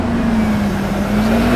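A four-wheel-drive Honda Accord engine held at a steady raised idle under light throttle, a loud, close, constant hum with no speech.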